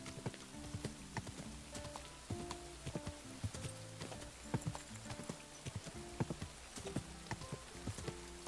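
Horse hooves clip-clop at a steady walking pace, with light rain falling throughout, in the video game Kingdom Come: Deliverance 2; the hoofbeats are quiet and regular, and rain patters continuously underneath.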